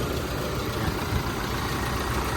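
A stock Toyota Fortuner 4x4 SUV with a 2.8-liter diesel engine idling nearby, a steady low rumbling drone with an even, unchanging level and no voices.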